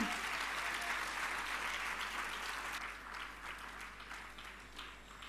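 A church congregation claps loudly in praise, a dense, sustained burst of applause that slowly fades toward the end, heard from within the hall.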